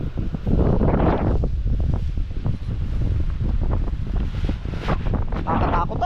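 Strong typhoon wind sweeps over an open farm field, buffeting the microphone in loud, continuous gusts with rustling around it.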